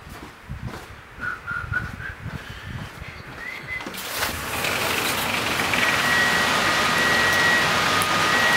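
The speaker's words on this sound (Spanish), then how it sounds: "Sì, definitivamente sta lloviendo." Rain falling outdoors, beginning as sparse patter and swelling into a steady, hissing downpour with a faint engine hum and occasional chirps in the background.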